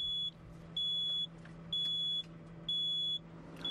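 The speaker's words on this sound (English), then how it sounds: "a buzzing sound can be heard to warn you that the attachment is now unlocked" A Volvo crawler excavator's warning buzzer sounds for an unlocked S6 quick fit, with three evenly spaced, sustained high beeps about half a second long over a low steady engine hum.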